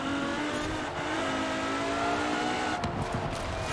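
Rear-wheel-drive car engine racing hard in Forza Horizon 4 while chasing a Koenigsegg, a loud continuous roar with shifting engine tones and a brief scrape or impact near the end.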